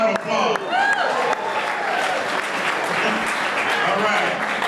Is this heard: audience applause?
yes